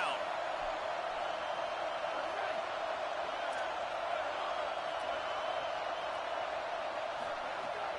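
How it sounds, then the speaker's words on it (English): A stadium crowd in the video game College Football 27 roars steadily and loudly for the whole stretch as the home fans back the defense on a third down, with no break in the din. "Decibels rising as the crowd gets behind this defense on 3rd down."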